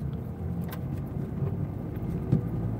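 Car in second gear accelerating during a driving lesson, a steady low engine drone inside the cabin with no talk and a faint jingle near the end.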